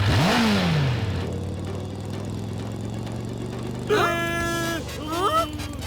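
A motorbike engine in an animated cartoon revs up and drones steadily nearby, with a higher whining rev near the end.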